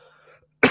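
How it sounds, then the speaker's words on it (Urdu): A single sharp, loud cough bursts out close by at the very end, after a moment of faint background murmur. "شدید کھانسی ہو رہی ہے"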